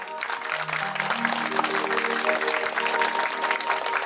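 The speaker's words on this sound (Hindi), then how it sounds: "इनके लिए जोरदार तालियां।" An audience applauds at a Shrimad Bhagavat Katha religious gathering, with dense sustained clapping throughout and a sustained musical tone running beneath.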